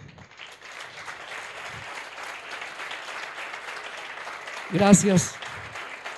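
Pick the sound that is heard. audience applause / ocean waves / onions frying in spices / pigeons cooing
audience applause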